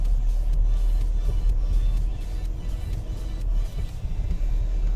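Greenhouse delivery vehicle driving along a road toward Vinnytsia, a steady low engine and road rumble heard from inside the cab, continuous and fairly loud, with no talk.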